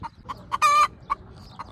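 A hen clucks in short, evenly spaced calls, broken by one longer, drawn-out squawk near the middle, close and clear with no voices.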